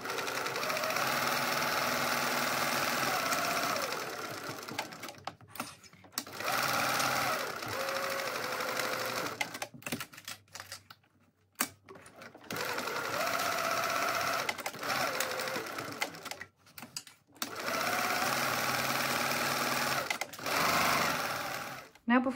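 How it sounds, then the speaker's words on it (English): A sewing machine stitches a fabric handbag in several steady bursts of rapid mechanical whirring, separated by short pauses, heard close up while a person talks throughout. "we're going to sew down here and across until we get to this turning and just backstitch it there"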